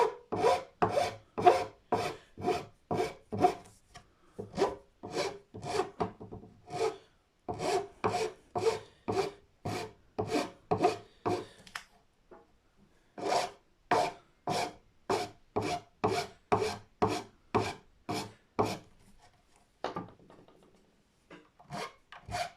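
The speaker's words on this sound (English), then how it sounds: "that same file that doesn't cut on the bottom edge to get the corners of the nut" A file shapes the nut on a Stagg acoustic guitar in rhythmic bursts of sharp rasping strokes, each group of quick back-and-forth passes set apart by short pauses. The sound is close and clear, with no talking.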